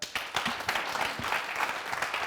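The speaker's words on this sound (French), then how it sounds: "Vous pouvez vous applaudir," Clapping from the crowd at a lively Burkinabé TV entertainment show, a moderate, fairly distant patter of hands filling the whole short stretch.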